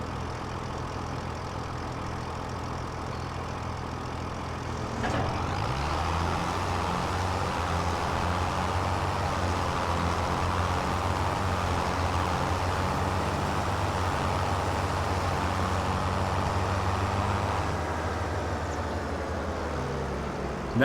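A tractor in Farming Simulator 25 drives steadily back toward the garage, its engine a constant low drone that steps up in pitch and load partway through, then eases off near the end.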